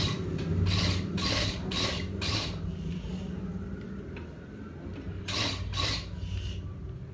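A sewing machine stitches a front design on a gents kameez, giving a steady mechanical whir and rattle with several louder bursts of fast stitching, close by and with no one speaking.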